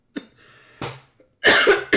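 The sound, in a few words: cough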